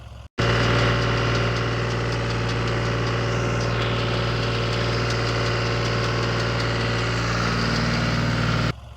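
A steady engine drones at idle from start to finish, a constant low rumble with mechanical vibration and no voices.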